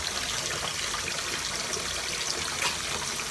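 Hot water runs and trickles steadily as glass jars with their lids removed are set into plain hot water, a continuous close splashing wash with no talk over it.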